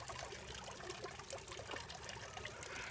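Water trickles and splashes in a sink while arrows are washed, a soft, continuous running stream with small irregular drips, close but quiet.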